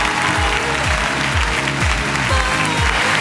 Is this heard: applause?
yes